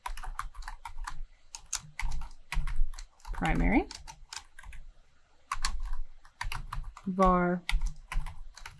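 Fast clicking on a computer keyboard runs in bursts while code is typed for a website menu, mixed with someone talking at moderate volume.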